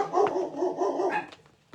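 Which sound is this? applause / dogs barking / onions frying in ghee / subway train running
dogs barking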